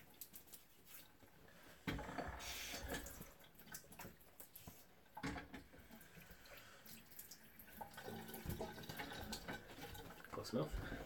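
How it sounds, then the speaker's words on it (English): Cold tap water runs into a bathroom sink while a man rinses his face after a wet shave, splashing and gurgling in uneven bursts as the stream is interrupted by hands. "So I'll go ahead and rinse off some cold water here."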